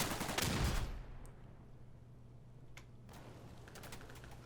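Gunfire from a World War II battle in the game Day of Infamy, a loud close burst of shots at the start, then quieter scattered distant shots against a low steady hum.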